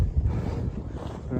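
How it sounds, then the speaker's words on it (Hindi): Strong wind in a snow blizzard at Rangdum, a steady loud roaring rush buffeting the microphone throughout, with no voices. "हवा चल रही है यहाँ पे बहुत तेज़"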